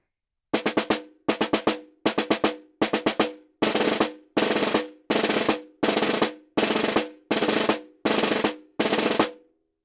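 Snare drum plays the opening three measures of a rudimental exercise: twelve evenly spaced groups of crisp strokes, the first four as tight multi-stroke clusters, the rest as sustained buzzy bursts, close and loud with no talking.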